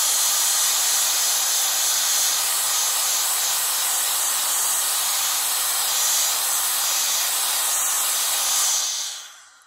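A VSGO air blower pushes a steady, loud hiss of air across a camera with caked-on dirt, continuous for several seconds before cutting off abruptly at the end.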